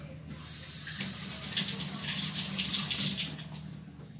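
A faucet runs steadily to wet makeup, a close, soft hiss of flowing water that swells slightly in the middle and fades at the end.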